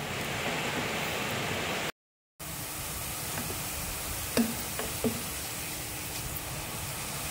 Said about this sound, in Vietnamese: Mình chiên cho nó vàng rồi mình vớt nó ra nha các bạn.